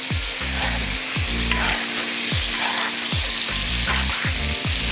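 Lamb chops sizzle loudly and steadily in garlic butter while being basted, with a rhythmic series of spoon scrapes and splashes about once a second over the continuous frying hiss; no one speaks.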